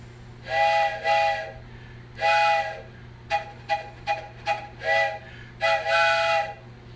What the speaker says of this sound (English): Anyway, our train whistle.